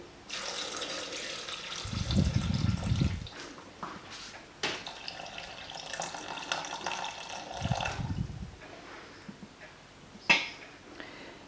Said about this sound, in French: Il faut rajouter 700 g d'eau.